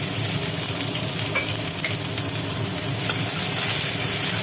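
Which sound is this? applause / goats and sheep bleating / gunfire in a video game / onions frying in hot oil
onions frying in hot oil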